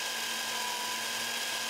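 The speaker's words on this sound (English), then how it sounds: "The time has come to drill the hole." Power drill boring a hole through a van body, a steady, loud whine held without break for under two seconds, with no talking.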